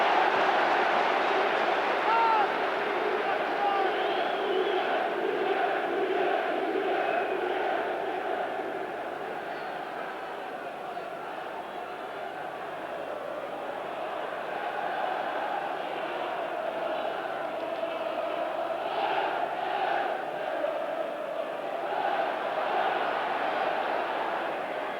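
Football crowd of about 25,000 at Highfield Road, Coventry, during a League Cup semi-final against Nottingham Forest, a broad continuous roar and murmur filling the ground that dips midway and swells again.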